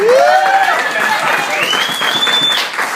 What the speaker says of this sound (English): Can we hear a bit of applause for Benjamin?